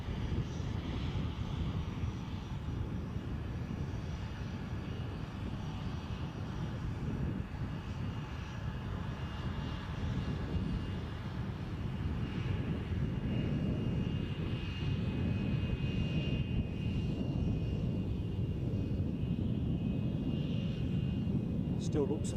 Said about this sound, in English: The ATR 42 in from Kirkwall.